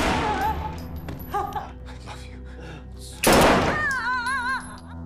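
Gunshots ring out during a hostage scene in the 2018 film Hotel Mumbai. Sharp thuds and a loud burst sit over background music, with voices in between.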